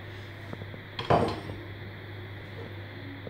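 Dongo vegetables tip into a cooking pot with one brief clattering thud of pot and contents, then a quiet room hum, no talking.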